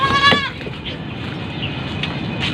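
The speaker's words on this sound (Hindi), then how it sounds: "ये 3 मेरे पास बकरियां हैं।" Goats at a Karachi livestock market, with one loud wavering bleat near the start and fainter bleats later against a busy background of crowd noise.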